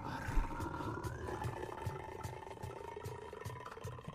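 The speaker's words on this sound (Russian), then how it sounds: "Это ты рыгаешь или что?" A long, rough guttural burp with a wavering, roar-like tone, loud and close for about four seconds with no talk over it.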